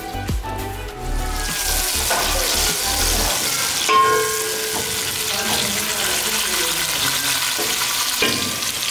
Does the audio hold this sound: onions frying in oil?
yes